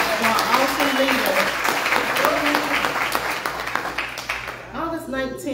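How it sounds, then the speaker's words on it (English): Congregation in a Baptist church claps in praise for their pastor, a loud sustained round of hand claps mixed with voices and organ-like tones, with speech rising over the clapping near the end. "Can we give God a hand clap of praise for our awesome leader?"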